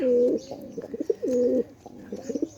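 A male and a female pigeon coo nearby, giving a few deep, rolling calls in short phrases with brief gaps between them.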